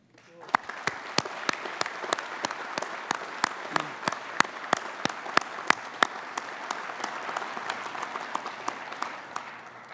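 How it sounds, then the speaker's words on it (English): Warm applause from an audience at a leadership lecture, steady clapping with a few sharp, close claps standing out, lasting throughout. "I'd ask you to join me in a warm round of applause"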